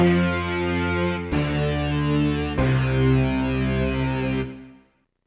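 A thick, distorted synth keyboard tone with a gritty, guitar-like edge, from the bottom section of the keyboard, plays a few long sustained chords, each hit sharply, then cuts off abruptly into silence.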